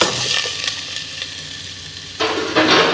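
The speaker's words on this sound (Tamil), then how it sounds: "கடுகு போடலாம் ஃப்ரெண்ட்ஸ் வெங்காயம் கடுகு வெங்காயம் போடலாம்" Mustard seeds and onion fry in a pan with a loud, close crackling sizzle that eases briefly, then flares up again over the last second, and no voices are heard.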